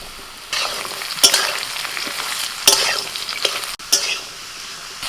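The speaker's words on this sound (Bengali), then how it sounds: "আলু ঝিঙে ভালো করে ভেজে নিয়েছি" Potatoes and ridge gourd fry in a pan for a poppy-seed dish, with a steady close sizzle broken by three or four sharp stirring clatters of a spatula against the pan.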